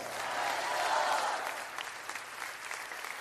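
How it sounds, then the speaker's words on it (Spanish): A crowd at a live Christian music performance bursts into loud, dense applause that peaks quickly, then thins into scattered, sharper claps. "Dale más fuerte ese aplauso al Rey de Reyes"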